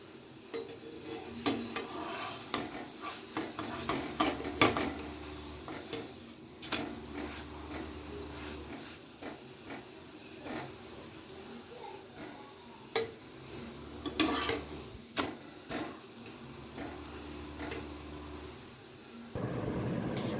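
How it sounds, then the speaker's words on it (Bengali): Sweet potato paratha fries in a little oil in a pan with a soft steady sizzle, broken by repeated scraping and stirring clicks from a spatula. "একটা একটা করে পরোটা অল্প অল্প তেলে ভেজে"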